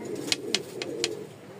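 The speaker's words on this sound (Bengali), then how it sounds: "4টা কবুতর ছাড়ছি, মনে হয় যে একদম ফুল ব্লক হয়ে গেছে জায়গা।" Pigeons of fancy breeds such as Lahori, Lakka, racer and Bukhara coo at a pigeon farm, giving a low, soft, rolling coo broken by a few sharp wing flutters, with no talking.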